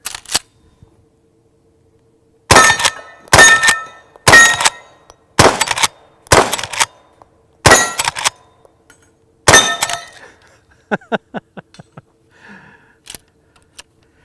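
A Henry Big Boy lever-action magnum carbine fires at a steel star target: a quiet start, then seven loud, sharp reports about a second apart, followed by a scatter of fainter metallic pings and clinks.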